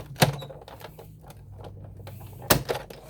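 A paper trimmer blade slicing through cardstock while making a handmade Valentine's heart flip card, with two sharp close thuds of the blade at the start and end of the cut and a quiet sliding rasp between them.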